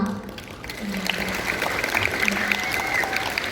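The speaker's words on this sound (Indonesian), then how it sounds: "Jadi kita beri tepuk tangan untuk guru-guru kita," Students applauding their teachers at a school celebration at SD/SMPK Anglo in Jakarta, a moderate crowd clapping steadily with faint voices and a tonal hum mixed in underneath.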